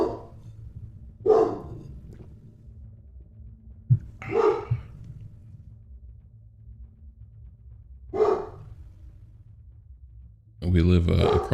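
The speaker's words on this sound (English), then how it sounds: "Could probably hear my dogs in the background." Pet dogs bark in the background of a home near a church, several separate barks spaced a few seconds apart, moderately distant, followed by a burst of talking at the end.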